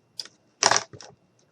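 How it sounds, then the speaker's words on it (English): Wire cutters snipping through an artificial flower stem while making fall decor: a few quick, sharp clicks, one louder crisp snap in the middle, close and quiet with no talking. "I'm going to cut this stem off"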